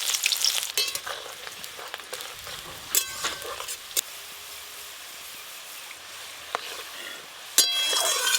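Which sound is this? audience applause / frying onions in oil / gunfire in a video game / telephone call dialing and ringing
frying onions in oil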